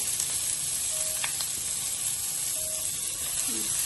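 Garlic and shallots sauté in a hot pan, giving a steady, close sizzle and hiss that runs evenly without pause, with a faint clink or two behind it.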